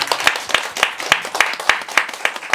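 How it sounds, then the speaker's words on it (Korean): A church congregation at a worship service claps together in praise, a steady, evenly paced beat of many hands striking in unison, loud and close. "우리 다시 한번 살아계신 주님께 다시 또 영광의 박수를 합니다."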